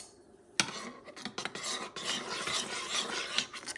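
A hoisin-based Kung Pao sauce being stirred vigorously in a bowl, giving steady scraping and rubbing strokes of utensil against the bowl that start abruptly after a brief pause and continue close up without talk.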